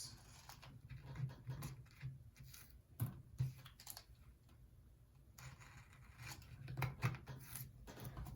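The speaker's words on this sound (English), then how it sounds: "Got our knife. Cut this. Cut this." A craft knife slices through paper or card for a crafting kit, giving soft scraping strokes and intermittent sharp clicks spread across a quiet tabletop.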